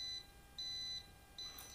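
A voltage tester touched to a neutral water-pump wire gives a faint, high electronic beep three times in short, steady pulses over quiet background hiss.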